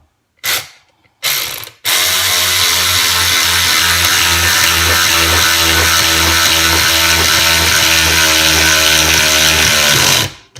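Two brief mechanical whirs, then a 20V cordless ratchet drives a bolt straight into a block of wood without pre-drilling, running continuously for about eight seconds with a loud, rapid clicking buzz before stopping.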